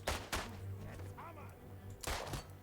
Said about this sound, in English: We are being shot at heavily.